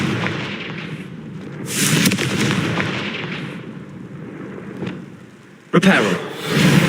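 The Confringo fire spell is cast repeatedly in Hogwarts Legacy, each cast bursting out as a whooshing, booming blast, with one sharp loud impact near the end over ongoing game ambience.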